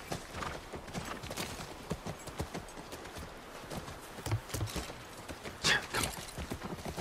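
Steady clip-clop of a horse's hooves walking at an even pace in The Last of Us, moderately close, with a brief snort partway through.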